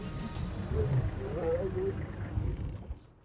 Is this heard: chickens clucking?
no